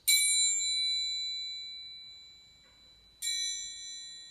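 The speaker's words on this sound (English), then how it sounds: "I've actually got two triangles here" Two bright, shimmering metallic strikes of a triangle, each ringing out and slowly fading, the second coming after a few seconds of decay.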